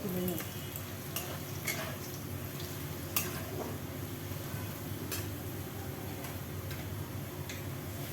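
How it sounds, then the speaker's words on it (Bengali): Onions fry in a pan for chicken biryani, a constant low sizzle with quiet scraping and ticking from stirring, all at a subdued, even level. "ভাজতে ভাজতে আমার পেঁয়াজটা লাল লাল করে ভাজা হয়ে এসছে"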